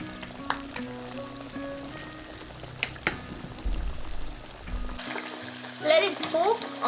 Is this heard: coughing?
no